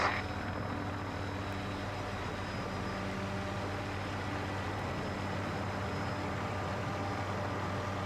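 A Hughes 500 helicopter in flight, a steady droning engine and rotor hum heard from inside, constant and moderately loud with no talk.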